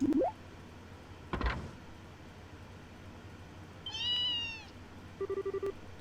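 A cat meows in the video game Trails in the Sky 3rd, one clear mew amid sparse game sound effects, including a rising chirp, a sharp swoosh and a short beeping tone, with no talking.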